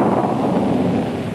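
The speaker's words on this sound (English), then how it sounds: "What was that? Thunder, Mrs. Weatherman." Thunder rolls as a steady, loud, deep rumble with a rain-like hiss on top, filling the whole short moment without any break or voices.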